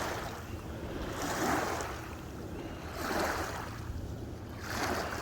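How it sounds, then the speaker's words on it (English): Ocean waves roll in on a shore in slow, rising surges roughly every couple of seconds, with steady wash and light wind noise between them and no voices. "Just got some waves coming in."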